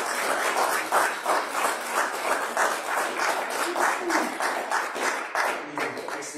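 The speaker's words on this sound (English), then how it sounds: "One applause." Church congregation applauding during a Second Sunday of Easter service, a steady mid-level round of many hands clapping that holds for several seconds without a break.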